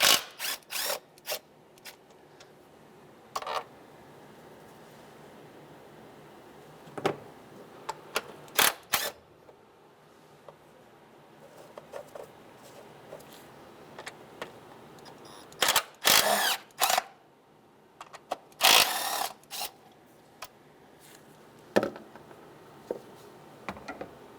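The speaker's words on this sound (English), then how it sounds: "So we need to remove 4 10mm bolts." A ratchet loosening the 10mm bolts on the top cover of a 2003-2011 Honda Element during spark plug replacement, scattered short clicking bursts and clunks between quiet gaps, close and without talk.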